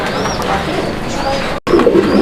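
American Shocking pigeons coo in a loft, several soft throaty coos and murmurs rising over a busy background with a brief dropout midway.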